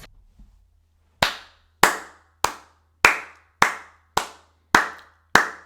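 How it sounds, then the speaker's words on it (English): Eight sharp, loud hand claps land right at the microphone, evenly spaced about half a second apart, each ringing briefly in an otherwise quiet room with no voices. "I was clapping into the microphone"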